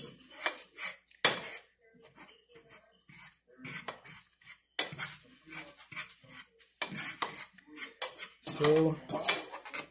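Utensils scrape and clank against a bowl while food is mashed for aurochs roasted with leeks, seasoned with pepper and ginger; repeated close rubbing and tapping strokes with brief pauses.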